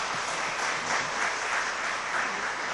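A church congregation claps in warm, sustained applause to welcome a missionary, dense and even throughout without pause.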